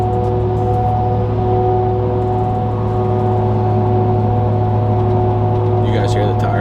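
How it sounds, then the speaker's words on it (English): Loud tires whine on a Ford 6.7 Powerstroke truck cruising at 66 mph, a constant droning hum over heavy road rumble from inside the cab, with a voice briefly audible near the end. "We're doing 66 miles per, and they are just screaming at us."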